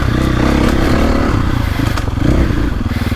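A KTM 450 Factory Edition dirt bike engine revs loudly close by in a short, throaty burst, with some clatter and rough mechanical texture.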